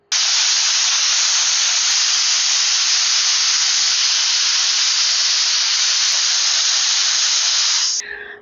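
A loud, steady hiss of steam rushing out of a pressure cooker cooking beef, continuous for about eight seconds, then cutting off abruptly.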